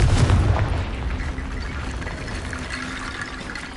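A fiery spell explosion in the Hogwarts Legacy video game: a loud booming blast at the start that fades into a rumbling, crackling tail, with no voices.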